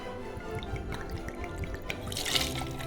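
Tequila pours into a cocktail shaker as a faint, close liquid trickle with scattered drips, running steadily and swelling slightly toward the end.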